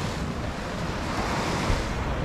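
Ocean surf rolls in steadily at Redondo Beach pier, a continuous broad wash of waves with some wind buffeting the microphone, no voices.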